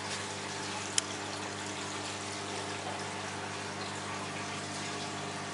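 Aquarium sump driven by two 3,000-litre water pumps, giving a steady low hum with rushing, gurgling water. It holds even and moderately quiet throughout, with one brief tick near the start.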